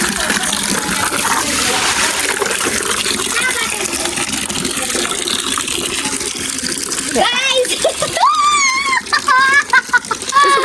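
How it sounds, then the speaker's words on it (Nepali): Water gushes and splashes steadily for several seconds, close by, while washing a scooter; toward the end a voice talks over the running water. "पानी भरिदिउँ"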